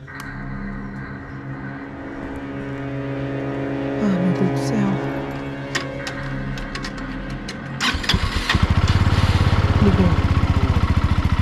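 A motorcycle engine cranks and catches, then settles into a steady rumbling idle that grows louder and more throbbing toward the end, with people talking nearby.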